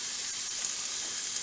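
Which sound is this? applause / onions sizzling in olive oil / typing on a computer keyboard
onions sizzling in olive oil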